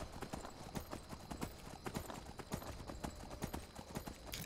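Horse hooves clip-clop in a steady, brisk rhythm in the video game Skyrim, an even trotting patter at moderate volume with no speech.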